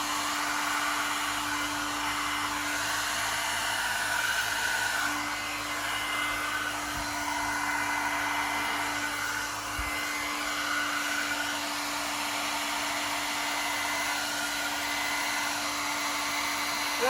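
A hair dryer blows paint across a canvas in a Dutch pour, a steady close whooshing drone with slight shifts as the dryer moves, and one or two brief knocks.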